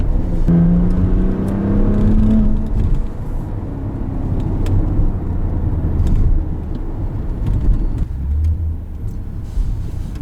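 Maserati Levante S engine pulling the SUV forward, a loud, steady cabin drone with rising engine tones as it accelerates, with no talking over it.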